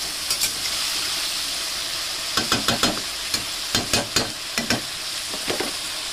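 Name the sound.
ginger, garlic, chili and cumin paste sizzling in oil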